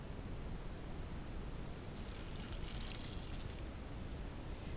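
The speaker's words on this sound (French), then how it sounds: "Donc là, on rajoute un peu de bouillon." Broth poured into hollowed round courgettes: a soft liquid splash and trickle swells briefly in the middle of a steady, hissy background.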